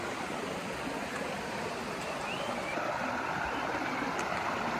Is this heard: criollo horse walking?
no